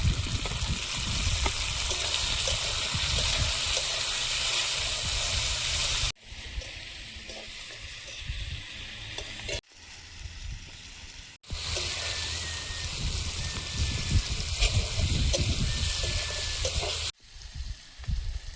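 Big potatoes and taro fry with five-spice and bay leaf, a loud close sizzle with stirring that drops away abruptly several times, as if the pan is moved or the lid shifts, then comes back.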